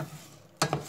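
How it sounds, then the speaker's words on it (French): Rice pilaf being stirred in a pot with fat, herbs and spices: a soft background hiss, then two quick scraping strokes close by. "On remélange tout pour qu'il s'apprenne de matière grasse et des herbes et des épices."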